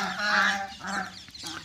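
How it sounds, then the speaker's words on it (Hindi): Ducks arriving at a farm to feed give a few loud, nasal honking calls close by, in short bursts with brief gaps between them. "आप देख सकते हो बतख भी आ चुकी है दाना खाने के लिए"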